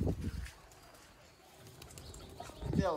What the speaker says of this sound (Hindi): सियालकोटी छत वाले कबूतर